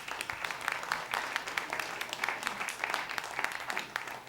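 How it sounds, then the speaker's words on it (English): A small audience at a standup comedy show in a coffee shop claps, with a sparse, fairly quiet patter of hands that holds steady for several seconds. "That's an applause line."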